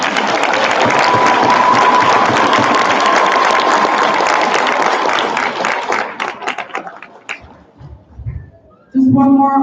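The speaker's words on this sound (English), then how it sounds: "Could you give them one more round of applause?" Loud audience applause for a school preview choir at a February 2022 concert, dense steady clapping for about six seconds that thins into scattered claps and fades, then a voice starts talking near the end.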